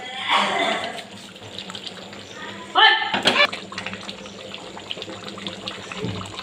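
Water splashing from a tap or jug into a pot of meat being cooked for a dopiaza, with a metallic knock from a lid, under steady background talk.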